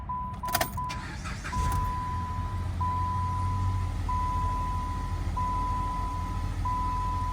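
2011 Dodge Avenger with a bad temperature sensor, its engine idling as a low steady hum while a regular electronic chime beeps at even intervals over it, after a brief clatter at the start.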